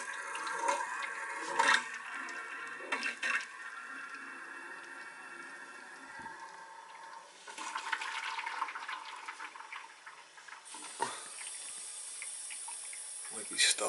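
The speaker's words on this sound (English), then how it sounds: "that feeder should start feeding water" A boiler feeder valve on an old boiler feeds water in, giving a steady rushing hiss of flowing water with occasional clicks and small knocks, continuous throughout.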